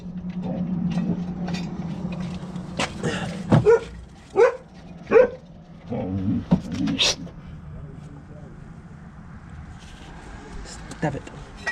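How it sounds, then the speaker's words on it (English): A dog barks a handful of times, loud and fairly close, during a motor mount replacement on a 2000 Mercedes ML 500 in a garage, with people talking around the barks and a steady low hum underneath. "That's my dog."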